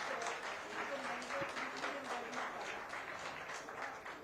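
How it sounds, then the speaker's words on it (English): An audience applauds for costumed cartoon characters at a children's event held by NIPCCD and Amar Chitra Katha, a steady wash of clapping with faint tonal sounds and murmuring voices mixed underneath. "a round of applause for our cartoon characters"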